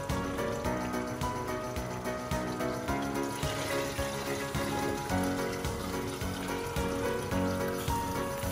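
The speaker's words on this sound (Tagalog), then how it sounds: "Lagyan po ng tubig." Water pouring steadily into a mixture while preparing embutido meat loaf, a continuous gushing fill sound heard alone, moderately close throughout.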